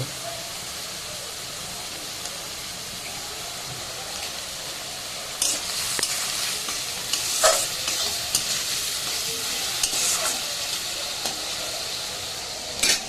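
Fish frying in a pan in a home kitchen, a soft continuous sizzle of oil with scattered crackles and pops growing busier toward the end, heard up close without speech.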